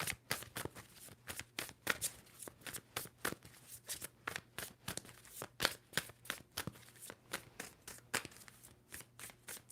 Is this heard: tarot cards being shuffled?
yes